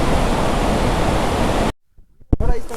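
Fast river water rushes over rocks in a loud, dense roar that cuts off abruptly; after a brief silence a sharp thud and a voice follow.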